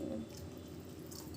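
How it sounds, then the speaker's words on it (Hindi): Water trickles into a cooking pan, a steady, moderately loud liquid hiss and splash lasting just over a second, with no speech. "आपको बस उतना ही पानी डालना है जिसमें ये ड्राई बन जाए। थोड़ा सा और डाल देंगे"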